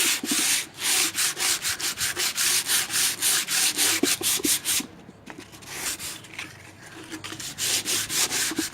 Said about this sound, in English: using 120 grit of sandpaper to sand this old stool.